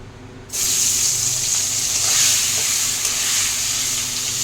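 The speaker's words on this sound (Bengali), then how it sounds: "মাছগুলো ভেজে নিয়ে ফিরে আসছি। এটা ভাজা হচ্ছে" Shing fish (stinging catfish) sizzles in hot oil, a loud crackling hiss that starts suddenly and keeps going evenly, with faint pops scattered through it.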